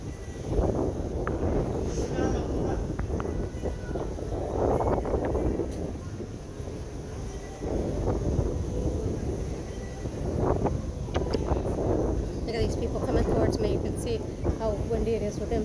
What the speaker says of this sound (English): I can show you how windy it is by looking at people's clothes as they're walking by.